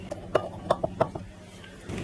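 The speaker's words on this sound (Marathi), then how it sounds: "आता काय करायचं या पोह्यांना मिक्सरच्या भांड्यामध्ये काढून घ्यायचं आहे" Soaked poha is scooped from a bowl into a mixer jar, giving a few sharp metallic clinks and taps of spoon against steel, spaced irregularly and fairly close, with no talking.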